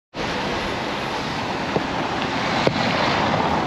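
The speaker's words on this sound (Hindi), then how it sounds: "माशाल्लाह गलियों को पानी से धो रहे हैं।" Streets in Turkey being washed down with water, a steady broad hiss of spraying and flowing water close by, with a couple of faint knocks partway through.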